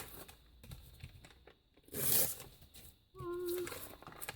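Cash register receipt paper rips sharply in two short bursts, with soft rustling and crinkling between the tears, close and otherwise quiet.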